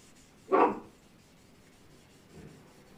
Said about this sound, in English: Dog doesn't like the wind, as you can hear